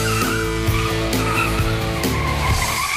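A 2006 Infiniti G35 Sedan Sport aero version brakes hard, its tires squealing and skidding in a loud, sustained screech over engine and road noise, close up with no talk.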